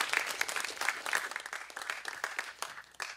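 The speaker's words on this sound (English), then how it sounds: "So please give her a warm applause" Audience applause greets a speaker taking the stage at a ToorCamp 2018 talk, a dense burst of clapping from a crowd with a few sharper individual claps standing out, loud and close, fading slightly toward the end.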